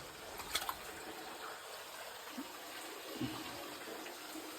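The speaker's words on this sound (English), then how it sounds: "Water running." Steady, faint hiss of running water flowing continuously in a deep, dark tunnel at a hot spring, with a few small splashes and knocks, no voices.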